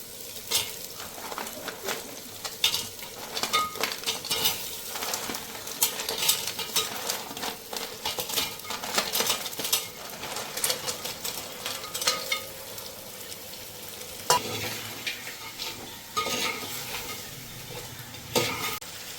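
Crabs fry in a pan for a curry, giving a busy crackling sizzle broken by repeated scraping and clinking stirs, close and uneven in loudness, with no one talking.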